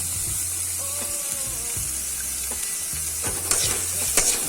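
Onions sizzle and fry in hot oil with salt added for an onion tomato curry, a steady crackling hiss with occasional stirring scrapes near the pan.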